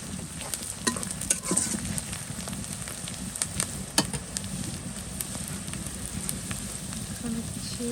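Green chili, onion, cinnamon and cardamom frying in hot oil, giving a steady close sizzle with faint crackles and occasional stirring clicks throughout.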